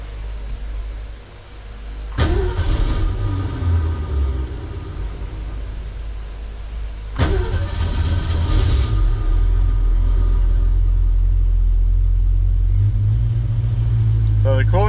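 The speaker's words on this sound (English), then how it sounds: "this is the first start on the new starter" A 1966 Ford Mustang with Sniper EFI cranks on its new starter on a cold start, two loud start attempts before the engine catches and settles into a steady, close, rumbling idle.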